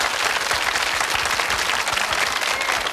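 A studio audience on a dim sum cooking show gives dense, loud, continuous applause that holds steady with no voices over it.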